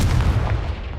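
A Confringo explosive spell cast in Hogwarts Legacy bursts with a loud, rumbling boom that rolls on through the whole short moment, heavy and close with no voices over it.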